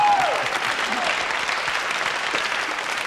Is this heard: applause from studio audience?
yes